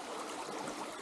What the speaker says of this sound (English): So this stream runs most of the year